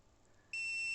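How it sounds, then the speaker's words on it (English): A single sustained electronic beep from an Actor bait boat saving its home point, high-pitched and steady, starting abruptly halfway through after faint background hum. "when it's done, it'll beep again"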